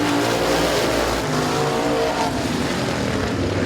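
Race cars roaring around the track at Midvale Speedway, a loud continuous engine drone with blended overlapping cars, steady throughout without talk.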